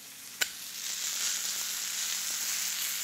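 Steak searing in a hot pan, a steady close sizzle throughout after a single sharp tap near the start, with no talking.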